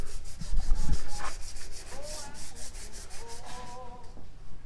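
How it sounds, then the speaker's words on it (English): Steady abrasive rubbing of sanding on a surface at a house construction site in the Philippines, continuous scratchy strokes at close range with no one talking. "Now they're sanding the macias."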